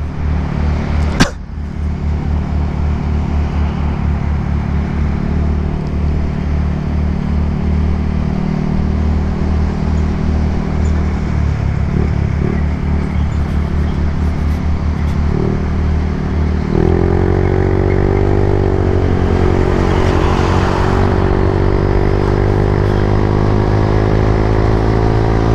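A beginner motovlogger's motorcycle riding on the road on a breakfast run, its engine droning steadily and loud throughout, with a brief sharp knock early on and a rise in engine pitch as it speeds up later.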